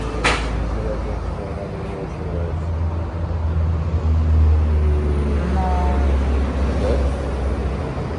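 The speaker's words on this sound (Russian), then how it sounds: "Тут так шумно на дороге." Continuous low road rumble and tyre noise from a car driving on a long road trip from Yakutsk to Abkhazia, steady throughout, with brief faint voices inside the car.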